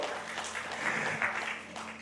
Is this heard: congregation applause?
yes